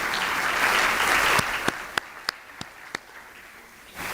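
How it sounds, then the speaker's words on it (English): Audience applause at a distinguished lecture, a dense wash of clapping that fades into a few scattered, isolated claps near the end before a brief swell returns. "Can we give her a round of applause?"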